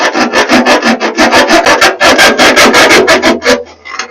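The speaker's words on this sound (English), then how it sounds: "I'm just going to file this out a little" A metal file rasps back and forth enlarging a gauge hole on a Ford 8N tractor, about twenty quick, even strokes in a loud, close, continuous rhythm before stopping.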